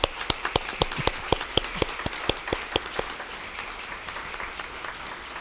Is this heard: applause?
yes